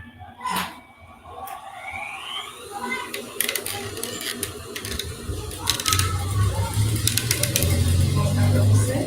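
A sewing machine running fabric finishing stitches, with a rapid mechanical whirring that builds and grows louder and steadier toward the end, over light background clatter and some faint voice.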